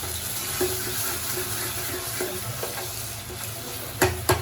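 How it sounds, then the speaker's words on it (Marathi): Ground roasted onion, coconut and garlic masala paste sautéing in oil for a black pea curry: a steady low sizzle with a few soft stirring scrapes and a louder clatter near the end, close and continuous. "नंतर शिजणं होतं तरी थोडं परतून घेऊ, कारण मसाले टाकले ना"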